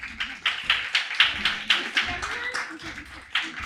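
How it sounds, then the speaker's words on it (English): An audience at a translation panel applauds its speakers with a steady wash of clapping from many hands, loud and close. A voice speaks over the applause. "invite you all to applaud our fantastic panelists"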